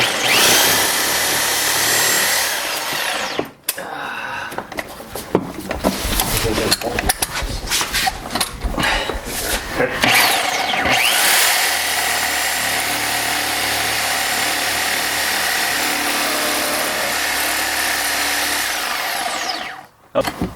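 A power cutting tool, an I-beam cutter, grinding into a stripped bolt during a Ford Ranger master cylinder swap, a loud harsh whine that starts, cuts out briefly, then runs long and steady before stopping.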